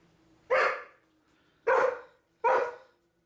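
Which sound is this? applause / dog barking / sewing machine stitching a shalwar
dog barking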